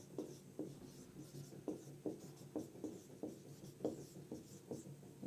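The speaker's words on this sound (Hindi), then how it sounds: "2 नंबर का हिंदी लिख लेंगे" Chalk or marker writing on a classroom board during a physics lesson, heard as a steady series of short scratchy strokes, roughly two per second, fairly close and moderately loud, with no speech over it.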